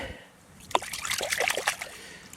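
A metal-detecting find is washed in river water on New Year's Day near Dnipro, with close trickling and splashing after a sharp knock, fairly quiet.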